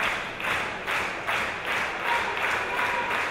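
A crowd at a Wrestlegate Pro wrestling show in Nottingham claps in a steady rhythmic beat, moderately loud and spread across the room, with no clear voices over it.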